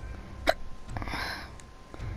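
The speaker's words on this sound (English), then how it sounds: "Got the hiccups too." A single sharp hiccup, close and fairly loud, rising out of quiet background sound during Fortnite roleplay gameplay.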